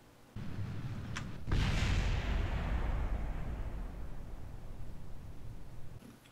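A rocket lifts off in Kerbal Space Program: a loud, broad roar kicks in, surges heavier a second later, then holds as a sustained rushing thunder before cutting away.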